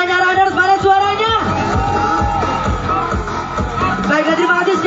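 A loud crowd at a marathon event shouts and cheers together, with whoops and voices rising and falling in a dense babble close by.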